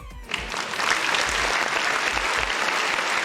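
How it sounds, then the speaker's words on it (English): Continuous applause from a crowd, dense and fairly loud, starting abruptly and holding steady throughout. "Applause for Jazzy."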